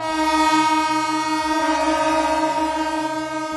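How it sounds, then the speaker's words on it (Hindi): Several local commuter train horns blaring together from trains standing on the tracks in Mumbai, a loud, sustained, droning chord that holds steady throughout. "ट्रैक पर खड़ी लोकल ट्रेन्स ने एक साथ हॉर्न बजाया"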